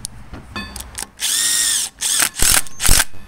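Impact wrench driving a 7/16 fastener while assembling an 820 axle: several short bursts, then a long steady whine of about half a second, then further hammering bursts, loud and close with no talk.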